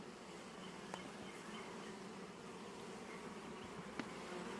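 Honeybees buzzing around an open hive on a ranch, a dense continuous hum of many insects close by, with a couple of faint clicks and no talk.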